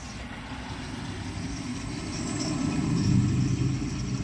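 A 1959 Standard Compton toilet flushes for its bowl rinse, a continuous rushing wash of water that swells gradually louder over a few seconds, close and without talking.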